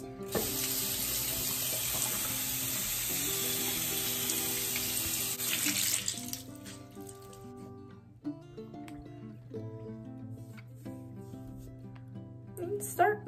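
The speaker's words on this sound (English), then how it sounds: "wash my face, get the sunscreen off." A bathroom tap runs steadily into a sink while someone washes their face, a close hissing flow that cuts off midway, followed by quieter drips, handling clatter and light movement.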